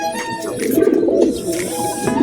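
Pigeon cooing at a derby pigeon loft, a soft continuous low murmur of coos running steadily throughout, close and moderately loud, with faint bird chirps above.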